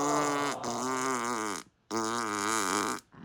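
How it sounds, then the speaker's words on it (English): Two long, buzzy fart noises, each about a second and a half, separated by a short silence, loud and close with a wobbling, sliding pitch. "Those fart noises were peak."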